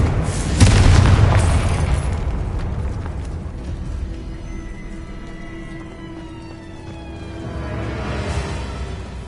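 A Confringo explosion spell goes off in Hogwarts Legacy, one loud deep boom early on that rolls into a fading rumble, with a softer whooshing swell building again near the end.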